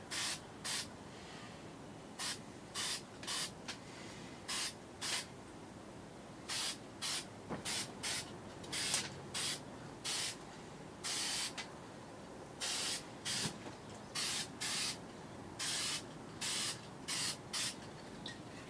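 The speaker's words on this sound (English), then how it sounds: "I like to spray right at the edge." Short bursts of an aerosol spray can hissing, repeated in quick irregular pairs and runs, close and fairly loud against a quiet background.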